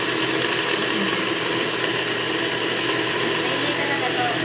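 An electric blender whirs steadily while blending a melon shake, a loud, continuous mechanical grinding drone that runs unbroken throughout with no clear voices over it.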